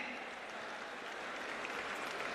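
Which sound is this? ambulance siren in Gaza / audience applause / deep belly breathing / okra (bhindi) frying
audience applause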